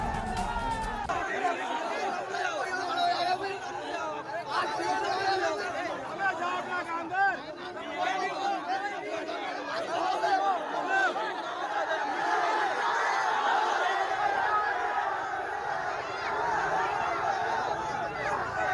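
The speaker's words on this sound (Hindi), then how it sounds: "मस्जिद के बाहर भाईजान की भीड़ भी जमा हो गई है।" A crowd has gathered outside a mosque in Agra's Jama Masjid area, and many voices chatter and murmur in a continuous, dense babble. A few chuckles rise out of it now and then.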